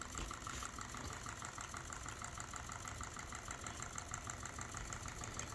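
A PM Research Rider-Ericsson scale model hot air pumping engine runs steadily, giving off a continuous close mechanical whir and rhythmic knocking with no pauses.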